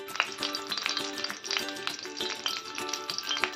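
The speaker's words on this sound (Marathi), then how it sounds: "हे बघा आपले तेल छान गरम होत आले। चला यात टाकायचं आपल्याला तडक्यासाठी कढीपत्ता" Curry leaves sizzle in hot oil in a pan, tempering for poha cutlets: a steady close crackle and spatter with frequent sharp pops, continuous throughout, without talk.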